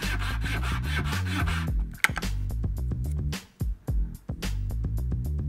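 A wall trimmer blade is worked on a 1Min Blade Modifier, giving close, rhythmic rasping strokes like filing, with a sharp knock and a few short breaks between passes.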